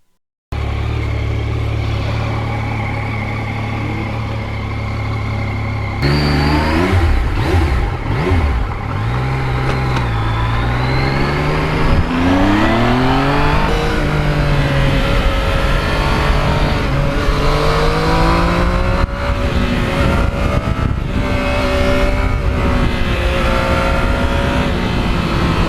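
Yamaha MT-09 naked motorcycle accelerating hard on the road, its engine revving up through the gears with a steady loud drone, rising pitch sweeps and wind rush, close to the rider and continuous throughout.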